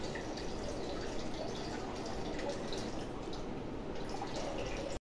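Water pours into a water cooler in a home kitchen as a steady, close trickling and splashing stream that runs continuously and stops abruptly at the end, with no voices.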